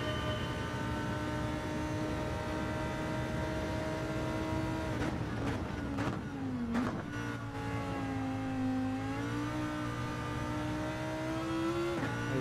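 A race car engine in Gran Turismo 7 holds a steady, loud drone, with quick gear shifts and brief dips partway through before the pitch climbs again under hard acceleration. No one speaks.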